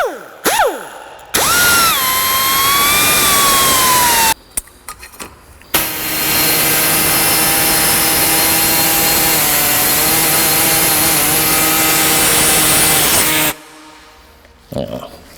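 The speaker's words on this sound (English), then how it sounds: "Maybe if I cut with the wire wheel, or not the wire wheel, the cutting wheel" A cutting wheel on an angle grinder slices through metal during fitting work on a Fairmont project car: a loud whine spins up, then settles into a long, steady, harsh grinding that stops abruptly. There is no speech.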